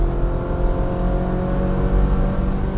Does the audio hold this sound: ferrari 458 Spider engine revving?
yes